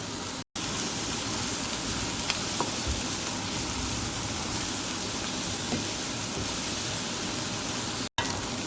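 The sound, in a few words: stir frying sliced cabbage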